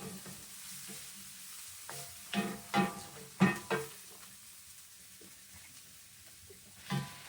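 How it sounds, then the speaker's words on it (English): Dried chilies toasting in a skillet over turned-down heat, a soft steady sizzle with a few louder scraping stirs in the middle and one more near the end. "Alright, my chilies are toasted"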